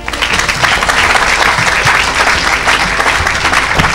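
A church congregation applauds loudly, with a dense, continuous patter of many hands clapping close by and a few voices mixed in.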